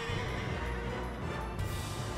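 Horses neigh and whinny amid a busy Mount and Blade Bannerlord battle with horse archers, the calls loud and continuous over dense background clatter.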